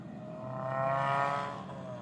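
A modified motorcycle engine rises and fades in the distance over about two seconds at 2:30 at night, a revving whine passing by at moderate volume.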